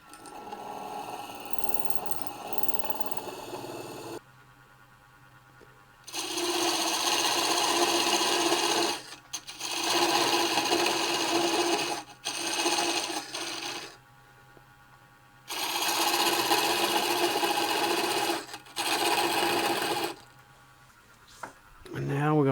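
Wooden gavel end being chamfered on a wood lathe, with bursts of loud, bright scraping and rasping from the cut, about three sustained passes separated by quieter gaps where the lathe hums and a voice talks.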